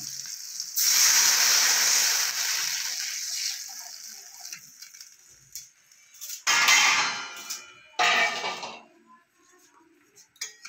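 Hot water poured into a pan of fish curry with potato and eggplant sends up a loud hiss and sizzle that slowly fades, followed by two more short bursts of sizzling.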